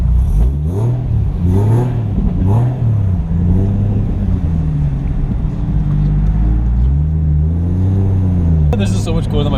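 Toyota JZX100 Chaser engine pulling hard at full boost, revs rising and falling in repeated loud sweeps with a sharp burst near the end, voices talking over the engine.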